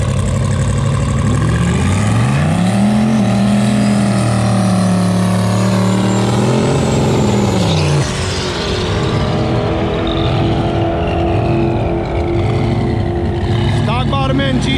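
A 1993 Ford Mustang coupe with a turbocharged stock-bottom-end GT40 engine runs loud and steady on a roller dyno, its pitch rising and falling as it revs, with people talking nearby.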